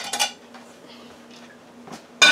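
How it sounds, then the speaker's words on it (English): A T-bone steak goes into an air fryer basket with a clatter of metal at the start, a quiet stretch with a faint hum, then another sharp metallic clank of the basket at the end. "now we're going to put it right into the air fryer."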